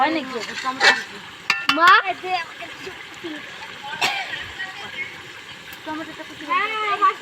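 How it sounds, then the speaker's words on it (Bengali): Meat curry is stirred in a pot outdoors at a picnic, with wet scraping and sizzling spatter at close range under frequent nearby chatter and voices. "আবারও নাড়তে থাকবো"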